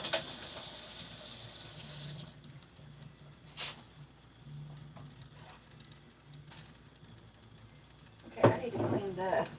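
A kitchen sink tap runs in a steady hiss for about two seconds and then shuts off, followed by quieter clatter and a voice talking.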